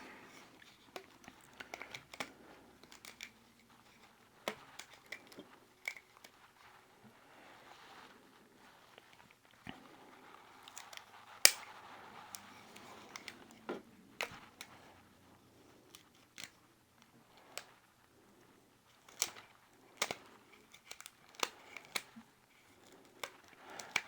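Unwrapping a glued repair on an Ashford Scotch tension spinning wheel part, heard as faint, scattered crinkles, peels and small clicks and taps spread irregularly over a quiet background, close by with no speech.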